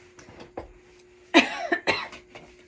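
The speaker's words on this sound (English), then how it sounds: "Okay, cough is normal." A woman coughs a few times in quick succession during a medical examination, close and fairly loud, after some quiet breathing and faint movement.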